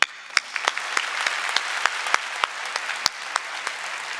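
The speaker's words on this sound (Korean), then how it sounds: "박수 쳐주십시오" A Korean church congregation applauds together, a dense and steady round of clapping with sharp individual claps standing out, moderately loud and free of talk.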